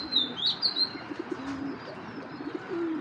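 A Giribaz high flyer pigeon gives a few soft, low coos, faint and close, with brief high chirps at the start.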